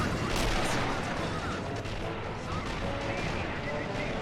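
Artillery fires in the Army Men of War strategy game during a battle at Pencil Ridge, a loud booming blast followed by rumbling battle noise and scattered gunfire.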